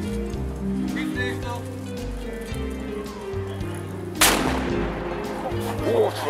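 A restored 1842 field artillery cannon fires one sharp, loud blast outdoors, breaking over a steady low mechanical rumble.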